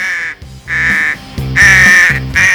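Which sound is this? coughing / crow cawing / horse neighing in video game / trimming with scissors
crow cawing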